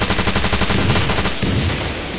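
Rapid automatic weapon fire from a mobile robot-car transforming game rattles out in a fast, even burst of loud shots, then gives way to a softer noisy wash of game effects.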